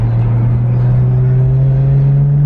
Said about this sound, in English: I don't have to listen to this terrible exhaust.